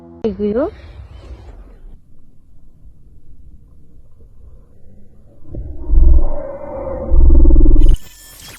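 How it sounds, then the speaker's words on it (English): A deep, rumbling growl rises twice near the end, loud and drawn out, after a short warbling cry and a quiet, muffled stretch, recorded at a campsite in Mississauga, Canada. "What's your take on this mysterious growl?"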